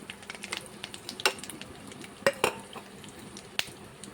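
Cabbage greens sautéing in a pan with turmeric, cumin, coriander powder, green chillies and salt give a soft steady sizzle, broken by sporadic scraping clicks of a spoon stirring against the pan, with no talking.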